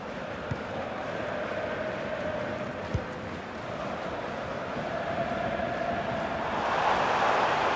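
Broad roar of a football stadium crowd late in an SSV Ulm versus Hertha Berlin match, a steady distant wash of noise that swells toward the end, with faint commentary underneath.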